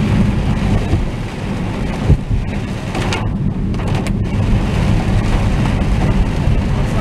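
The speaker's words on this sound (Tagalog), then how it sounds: "Basang-basa. Dami siya ng ulan." Dense, steady rain pours down loudly on a road, a constant wash of hiss and splatter with a low rumble underneath.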